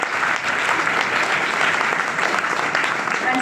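A school audience at a youth parliament prize distribution claps steadily, a dense, even wash of applause filling the whole stretch without a break.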